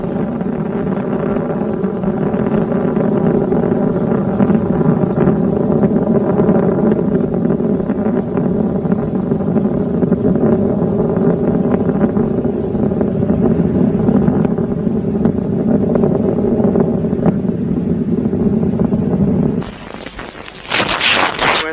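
Space Shuttle Discovery's three liquid-fueled main engines during the STS-105 launch, throttling back to 74% thrust through maximum aerodynamic pressure: a loud, steady, dense roar filling the whole stretch, with a high electronic beep cutting in near the end.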